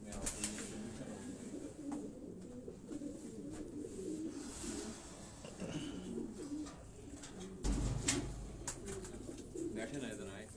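Racing pigeons in a loft coo softly and repeatedly, low rounded calls in a loose rhythm, with people talking nearby and occasional rustles and bumps.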